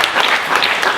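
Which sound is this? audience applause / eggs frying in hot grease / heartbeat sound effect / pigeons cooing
audience applause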